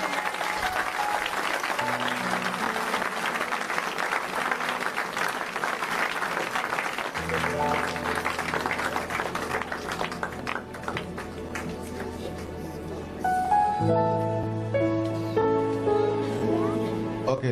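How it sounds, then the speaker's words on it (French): A church congregation claps loudly and continuously in acclaim, with cheers mixed in, and keyboard or music chords rise underneath and swell toward the end; voices are faint within the crowd noise. "on acclame le Seigneur de gloire"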